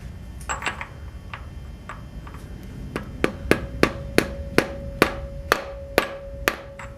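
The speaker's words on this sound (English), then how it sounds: "Alright, we'll drive this seal in." A hammer taps a socket to drive a cam seal into a Subaru EJ22 SOHC engine, giving a series of sharp metallic knocks that settle into a steady, evenly spaced rhythm of about a dozen blows.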